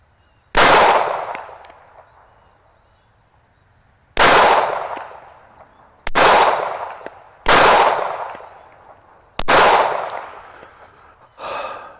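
Five loud, sharp gunshots from a Taurus Spectrum .380 pistol fired at targets on a range, spaced irregularly a second or more apart, each with a ringing decay, plus a quieter final burst.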